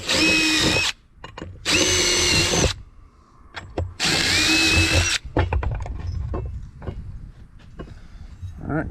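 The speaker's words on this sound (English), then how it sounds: "drill a hole in the top of it" A power drill bores holes into the top of a metal ammo box being made into a firepit, in three loud, steady bursts of about a second each, with quiet handling noises and clatter in between.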